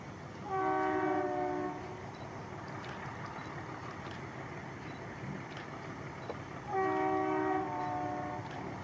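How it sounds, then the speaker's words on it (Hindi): A diesel locomotive train runs on meter gauge track in India, its harmonic horn blaring loudly twice, at the start and near the end, over a steady rumble of the train rolling past. "diesel locomotive,"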